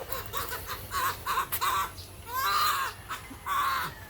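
Faint chickens cluck and call in short bursts at a distance, over a soft outdoor background hum, on a road in Bacong, Philippines.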